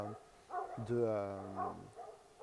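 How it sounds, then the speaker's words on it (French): Dogs barking excitedly in a garden around feeding time, a few loud yelping barks in quick bursts, fairly close, with bare gaps between them. "Je suis distrait par les chiens, là, c'est toujours un peu... ça doit être l'heure de les nourrir et voilà. Ils sont tout fous."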